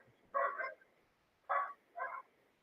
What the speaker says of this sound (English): the dog's barking already